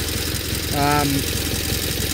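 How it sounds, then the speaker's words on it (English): A rebuilt Onan B43E engine on a 1984 John Deere 316 garden tractor, running with a steady, even mechanical drone throughout, with a brief tonal sound around the middle. "we got the Onan B43E back together and got it running"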